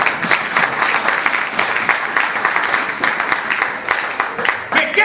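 A church congregation applauds steadily, a dense, continuous wash of many hands clapping at close range, loud and sustained throughout, with voices mixed in.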